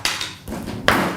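Foil seal on a tub of MTS Nutrition Machine Carb 10 cookies and cream powder punched in, two or three close thumping hits with crinkly foil rustle, sharp and loud.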